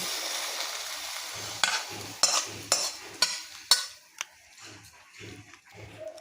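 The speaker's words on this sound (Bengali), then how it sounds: "এবার কপিটা আমি নামিয়ে দিচ্ছি।" Cooked cabbage scooped out of a hot wok onto a plate: a soft fading sizzle under several sharp metallic scrapes and clinks of a spatula against the pan.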